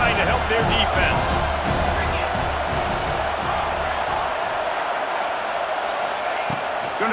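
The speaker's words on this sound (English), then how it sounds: "Listen to this crowd just shaking the girders of this place, trying to help their defense." A packed football stadium crowd roars for the home defense, a loud continuous wall of cheering and shouting that stays dense throughout, with a commentator talking over it.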